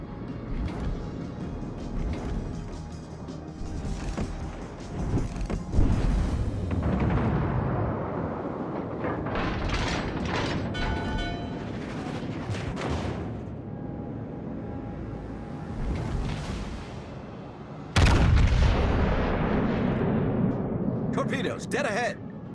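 Heavy naval gunfire from the Yamato battleship in World of Warships Legends, loud booming blasts and rumbling explosions over steady engine and water noise, with a voice calling orders in between.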